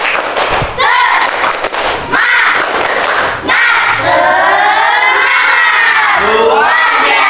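A class of children performs the tepuk semangat clapping chant, with sharp bursts of clapping followed by loud, energetic group shouting and chanting close by.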